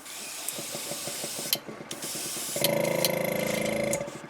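An airbrush sprays paint onto a fishing lure at low pressure, a close hissing spray with rapid mechanical clicking, then a steadier, louder buzzing hiss for a couple of seconds before stopping.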